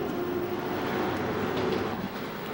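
An RER A commuter train rushes at speed through a Paris tunnel toward Opéra, giving a steady, loud rumbling roar with a faint whining tone, heard alone without voices.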